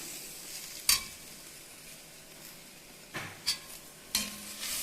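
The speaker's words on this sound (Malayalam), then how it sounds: "നന്നായിട്ടൊന്ന് വഴറ്റി കൊടുക്കാം ഇനി ഇതിലേക്ക് കട്ട് ചെയ്ത് വെച്ചിട്ടുള്ള പൂവ് ഇട്ടെടുക്കാം" Grated coconut and cut agathi flowers sautéing in a pan for a thoran, a soft steady sizzle with a few sharp scrapes and clinks of a spoon against the pan.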